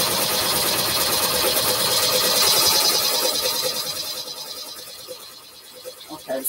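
An embroidery machine runs steadily at close range with a dense, rapid mechanical stitching buzz that fades toward the end, followed by a few scattered clicks.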